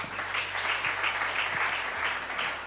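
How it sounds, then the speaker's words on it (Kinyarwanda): A church congregation applauds a visiting pastor, with steady, dense clapping that carries on evenly for several seconds beneath a low hum. "reka yikomera amashyi cyane"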